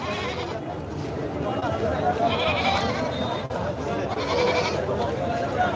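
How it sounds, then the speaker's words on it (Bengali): Goats bleat repeatedly amid the busy murmur of a crowded goat market on a concrete rooftop, with people talking throughout. "আপনারা দেখুন এখন ছাগলের বাজার"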